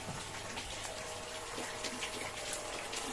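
Heavy monsoon rain pours down with water running and gushing nearby, a steady broadband hiss and splash heard close and unbroken.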